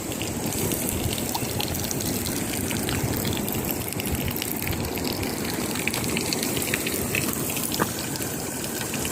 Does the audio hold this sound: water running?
yes